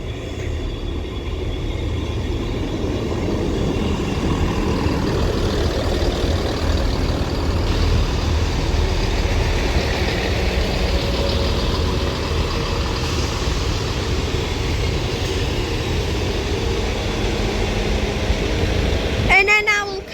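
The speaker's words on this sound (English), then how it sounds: "I will catch the rear set of this double East Midlands Railway 158 when she departs" A double-set East Midlands Railway class 158 diesel multiple unit at Widnes station, a steady loud rumble of engine and rolling wheels held throughout, with a brief squeal near the end; talk can be heard underneath.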